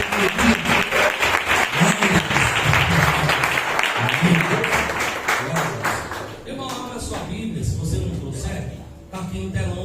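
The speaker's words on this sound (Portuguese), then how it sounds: "Aplauda o Senhor Jesus" A church congregation applauding during a service, with dense, sustained clapping mixed with loud voices and calls that continue throughout.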